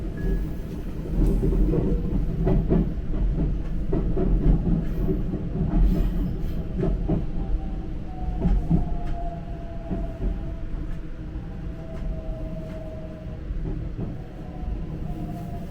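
Steady low rumble of a Japanese New Rapid train between Kyoto and Nagoya rolling along the rails, with faint clicking of wheels over joints and a long whine from the motors.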